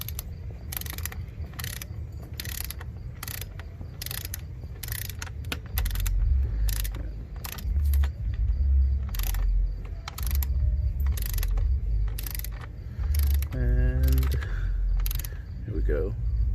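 A torque wrench ratchets on a valve cover bolt of a 2014 Chevrolet Cruze LT in a rapid, steady run of close metallic clicks, with a brief voice toward the end.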